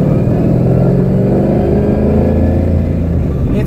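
A car with a T56 manual transmission and Mantic clutch pulls away in first gear. The engine gives a loud, close, steady drone that builds slightly as it moves off.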